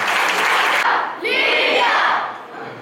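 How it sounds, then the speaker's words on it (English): Audience at a school International Yoga Day celebration applauds the students, a dense, loud burst of clapping and crowd noise that briefly dips, swells again, then fades near the end. "Let us give them all a big clap."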